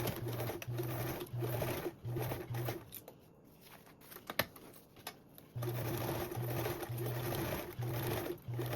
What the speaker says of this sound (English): And this time we're going to sew with a 1/4 seam allowance.